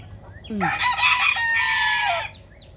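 A mixed-breed rooster crows loudly and close by in a farmyard, a single drawn-out cock-a-doodle-doo preceded by a short cluck, with soft low farm background and no voices.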